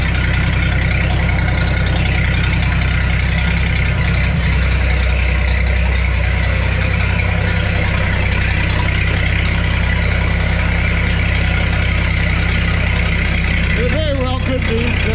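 A car engine idles steadily and loudly after its starter was replaced, with a constant low hum and rumble throughout and a brief voice near the end.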